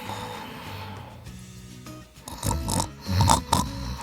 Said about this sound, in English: His snores were that loud.